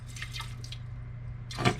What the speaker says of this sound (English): We're going to rinse the gold a couple of times with some distilled water here.